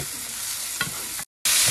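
Chicken pieces sizzle and crackle steadily in a hot frying pan, a close, continuous hiss with a faint clink, broken by a brief silent gap before the loud sizzle resumes.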